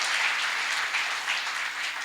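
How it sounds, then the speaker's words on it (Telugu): A church congregation gives a short burst of steady, full applause for a Christian message and testimony, continuous clapping with no talk over it. "గట్టి చప్పట్లు కొట్టి అభినందిద్దామా?"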